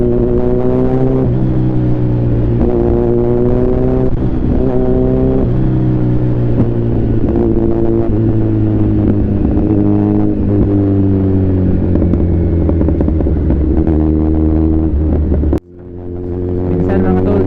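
A Kawasaki Z1000R Edition 2020 motorcycle engine drones loud and steady while riding, its harmonic tone rising and falling with throttle changes before cutting out abruptly near the end.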